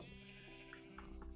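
Sheep bleats from the Minecraft video game, a steady tonal baa held across the short clip at moderate loudness, with a few brief blips near the end.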